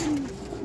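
A pigeon gives a short, soft coo at close range, a single low rolling call lasting under a second with faint background noise.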